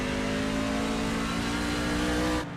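Onboard race car engine at Irwindale held on throttle, a loud steady drone with a sustained pitch and no talk, cutting off abruptly near the end.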